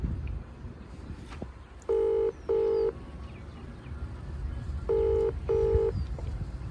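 A telephone number is keyed in as paired touch-tone beeps, two short tones, a pause, then two more, over faint background noise.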